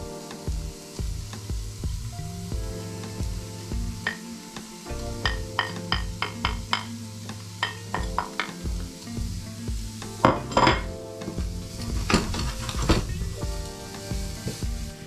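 Garlic and spring onions sizzle loudly alongside translucent onions in a frying pan, a continuous close crackle broken by repeated clinks and scrapes of a utensil stirring against the pan.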